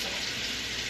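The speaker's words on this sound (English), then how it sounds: "Ah, sizzle." Mirin hits a hot wok of stir-frying food in a home kitchen, giving a steady, dense hiss that holds even and close throughout with no pauses.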